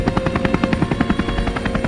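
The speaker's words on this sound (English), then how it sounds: "Cue the helicopter sound" Synthetic helicopter sound effect cued as a comic flashback gag, a steady rapid rotor chop with rhythmic low thumps pulsing throughout, loud and continuous with no voices over it.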